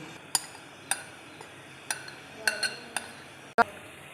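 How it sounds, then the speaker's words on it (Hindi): A lid goes onto a steamed-chicken cooking pot with a handful of sharp metallic clinks and taps spread unevenly over a few seconds. The sounds are fairly quiet and close in a kitchen. "इसके ऊपर ढक्कन दे देंगे"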